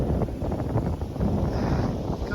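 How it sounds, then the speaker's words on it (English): Steady wind buffets the microphone aboard a sailboat running with the mainsail fully up and unreefed plus part of the headsail out, in about 10 knots of breeze, a continuous close rushing roar with no break. "Got about 10 knots of wind."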